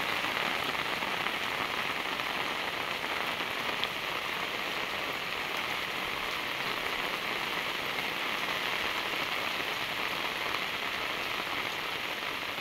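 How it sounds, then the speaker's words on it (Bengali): Heavy rain pours down in a steady, dense roar, a loud unbroken wash of drops hitting surfaces, with no voices. "বৃষ্টি হয়ে নেমে পড়ছে, ঝরে পড়ছে"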